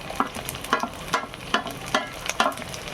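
Green chilli, onion, curry leaves, tomato and coconut sauté in a pan for a squid roast, a low sizzle broken by regular scraping strokes of a spoon, about six evenly spaced stirs.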